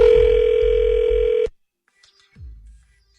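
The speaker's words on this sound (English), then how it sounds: "Let me put you through to voicemail" A telephone line tone during a call being transferred to voicemail holds steady and loud for about a second and a half, then cuts off abruptly, leaving near silence broken by a faint low click and a soft rumble.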